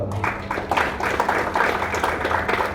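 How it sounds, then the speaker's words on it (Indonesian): An audience at a fire safety award event in Indonesia claps to welcome moderator Emmanuel Eko Haryanto, giving steady, moderately loud applause that lasts the whole stretch with some voices mixed in. "berikan tepuk tangan yang luar biasa kepada Bapak Emmanuel Eko Haryanto"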